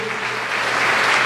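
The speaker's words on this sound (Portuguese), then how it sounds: "Vamos aplaudir o Senhor." Church congregation applauding, a dense continuous wash of many hands clapping together, loud and close, with no clear speech.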